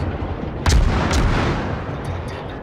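A Farragut destroyer's guns fire in World of Warships, a booming salvo followed by a second report over steady ocean and engine rumble.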